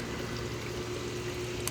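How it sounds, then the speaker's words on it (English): Water running steadily from a garden hose in a July garden, a continuous close rushing hiss that stays even throughout without any talking. "Excuse the water hose."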